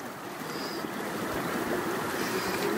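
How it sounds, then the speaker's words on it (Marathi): A natural stream of fresh water flows steadily outdoors, a continuous broadband rush and gurgle that stays even and close throughout with no voices. "आणि हे काय तुम्ही बघू शकता इथे मला पाणी भेटलेलं आहे"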